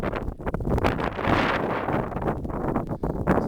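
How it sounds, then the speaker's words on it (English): Wind rushes and buffets a microphone outdoors on a hill in Cleveland National Forest near Mt. Laguna, California. It is loud and continuous, with gusty swells and no talking. "We have the wind."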